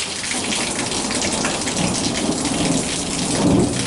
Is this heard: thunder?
yes